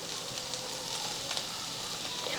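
Chopped chickpea greens sizzle steadily in a hot pan, a bright continuous frying hiss with small crackles and stirring scrapes, close and moderately quiet.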